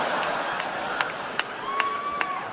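A lone audience member at a live stand-up comedy show claps slowly and evenly, about six sharp claps standing out over a soft crowd murmur.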